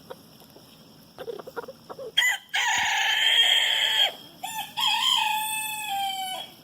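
Black Wyandotte cockerels crowing loudly and close, with a couple of long drawn-out cock-a-doodle-doos after some soft clucking.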